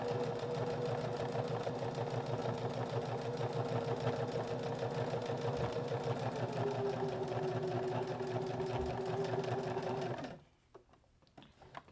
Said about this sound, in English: We're going to stitch a little bit and then do a back stitch to secure that, and then just stitch straight down that line.